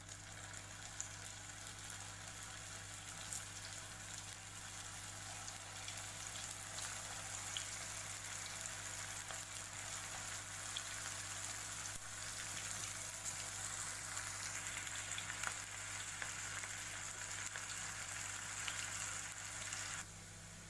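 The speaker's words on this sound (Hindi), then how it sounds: "दूसरे भी हम वैसे ही फ्राई करेंगे।" Cabbage Manchurian balls deep-fry in hot oil, giving a soft, steady sizzle and bubbling that runs unbroken for about twenty seconds against a low background hum.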